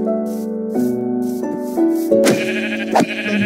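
Sheep bleating from Minecraft, a series of steady, tonal calls with clear harmonics, each held for a moment, followed by brighter, louder bleats near the end, with no talking over them.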